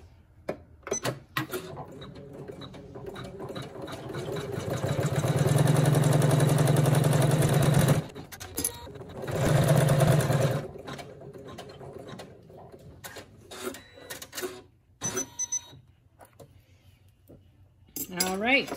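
Embroidery machine stitching out an in-the-hoop design, a steady mechanical whirring hum running for several seconds, pausing, then running again, with scattered clicks and rattles before and after.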